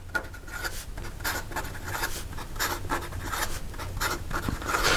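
Sailor Professional Gear fountain pen with an extra fine nib writing quickly on paper, a close, faint series of soft scratchy strokes in an irregular rhythm.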